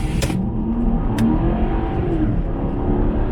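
A Porsche Cayenne V8 fitted with an LPG system revs during a power test, its engine note climbing steadily as it accelerates, loud and close, with a couple of brief clicks near the start.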